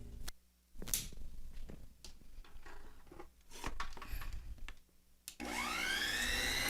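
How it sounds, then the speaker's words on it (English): A stand mixer creaming butter with brown sugar for snickerdoodle dough, a steady whirring motor that cuts in and out with short bursts before settling into a continuous high whine near the end. "You're going to mix those up first in the stand mixer."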